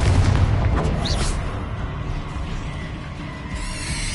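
Confringo blasting spell exploding in the video game Hogwarts Legacy, a heavy booming blast with rumbling low-end that rolls on continuously amid battle noise, loud and dense throughout.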